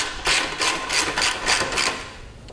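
Half-inch bolts being loosened on a Harley-Davidson saddlebag support bracket, a close ratchet clicking in about five quick bursts, loud and alone with no talk.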